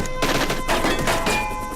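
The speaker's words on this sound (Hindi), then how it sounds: "सर, एनिमी की बहुत हैवी फायरिंग हो रही है सर।" Heavy enemy gunfire in a combat scene, a dense fusillade of overlapping loud shots forming a continuous rattling barrage across a couple of seconds.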